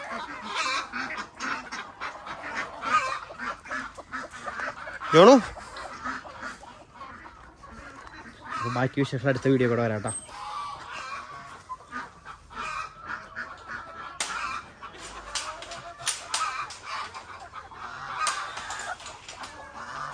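Ducks and geese on a Kerala farm, inside a pen netted on all sides and overhead, call with repeated honks and quacks over a busy, noisy yard, with one loud close honk and a brief spoken phrase.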